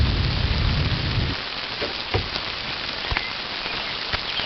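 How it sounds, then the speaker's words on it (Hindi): Steady rain patters on surfaces along a narrow mountain trekking track near Kalpa, Himachal Pradesh, with scattered louder drops, and a low rumble fades out early on. "लगातार होती बारिश हमारी मुश्किलों को और बढ़ा रही है।"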